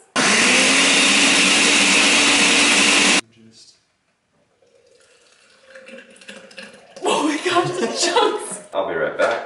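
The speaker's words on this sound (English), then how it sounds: "I'm gonna blend them now" A blender runs loud and steady for about three seconds while blending a smoothie, then stops abruptly, leaving near silence before people start talking and laughing.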